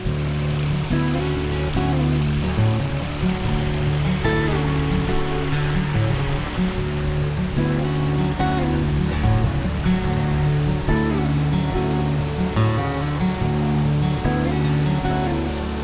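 A waterfall in a canyon at Grayson Highlands State Park rushes with a steady, broad roar of falling water, constant and full-bodied throughout, alone without voices.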